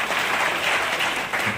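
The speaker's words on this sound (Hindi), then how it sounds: "संस्था के जोरदार तालियों से स्वागत करें, जोरदार ताली बजनी चाहिए।" A gathered crowd at a tree-planting pledge event claps in a short, dense, steady burst of applause that stays fairly loud throughout.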